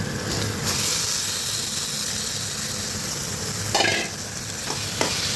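Chicken pieces go into a pan of masala that has been fried until the oil separates, sizzling steadily with stirring scrapes and a couple of louder clatters near the end.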